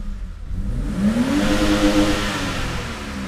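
BMW E32 engine revs up close and loud during a test drive, the pitch rising and holding as the motor climbs, then easing off with steady mechanical roar.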